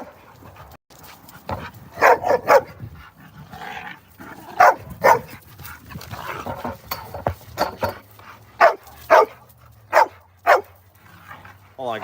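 Several dogs in a backyard barking in sharp repeated bursts, loud and close, under and between a person talking.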